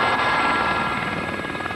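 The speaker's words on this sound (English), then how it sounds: "Just allow the aircraft to take control of you when you were hovering at point." An army training helicopter hovers, its rotor chopping in a loud, steady rhythm with engine whine close by, no voices.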